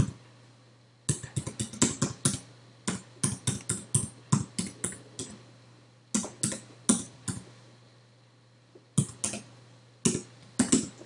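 Someone types the alphabet with caps lock on a computer keyboard, crisp key clicks falling in quick bursts separated by short pauses, close up and alone in a quiet room.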